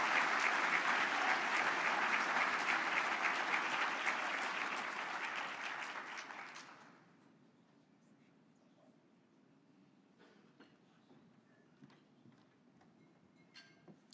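Dense audience applause at an awards ceremony fills the first half loudly, then fades out around the middle, leaving faint room noise and a few scattered late claps.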